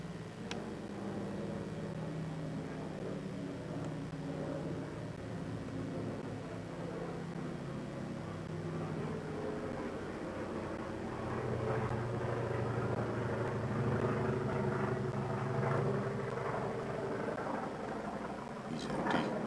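Bomber aircraft passing over a house, a steady low engine drone that thickens and grows louder toward the second half, a continuous broad rumble with no talk.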